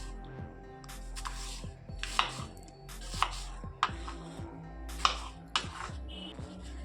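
A knife chops apples into small pieces on a board, giving about eight crisp, separate strikes at an uneven pace over a low background hum.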